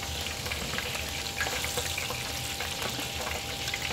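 Chicken pieces frying in hot oil, a dense, steady crackling sizzle with scattered sharper pops, close and continuous throughout.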